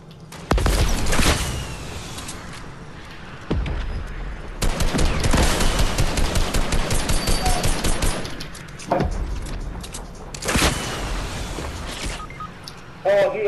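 Rapid bursts of automatic gunfire in a Fortnite match, loud and close, come in dense volleys with brief pauses between them, while players talk over the shooting.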